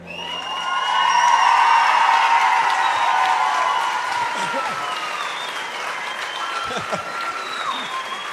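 Audience applause with some cheering at a school playback show, loud and sustained, swelling early then holding steady with scattered whoops, while music fades out at the start.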